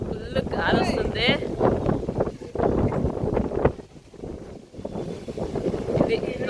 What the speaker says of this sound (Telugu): వర్షం లేదు కానీ బాగా గాలి వస్తుంది.